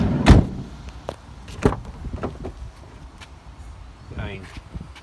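A car door is moved and closed, with a loud thump near the start, another firm knock after a second, and lighter clicks and rattles later, close up with someone speaking.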